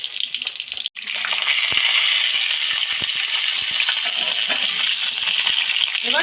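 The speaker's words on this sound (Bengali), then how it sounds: "গরম তেলে জিরে তেজপাতা দেওয়া হলো।" Cumin seeds and bay leaves hit hot oil in a kadai with a sharp drop and then a loud, continuous crackling sizzle that carries on steadily to the end.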